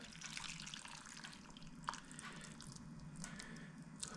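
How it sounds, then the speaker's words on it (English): Hot water is poured over dried chillies soaking in a bowl, giving a soft, faint trickling and squishing splash that runs steadily, with a few drips and no talk. "And then just cover that with hot water."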